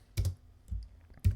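Short bursts of typing on a computer keyboard, three quick clusters of close, crisp key clicks separated by brief pauses, with no talking.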